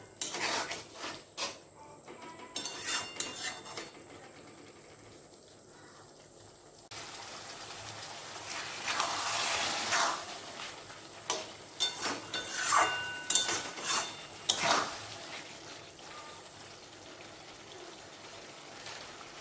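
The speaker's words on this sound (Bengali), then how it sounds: "ছোলাটাকে মশলাটার সঙ্গে ভালো করে কষিয়ে নেব" Boiled chickpeas being sautéed and stirred with spices in a pan for chole, with intermittent scraping and clattering of a utensil against the pan, fairly quiet, with a louder stretch of hissing and clinks midway, no talking.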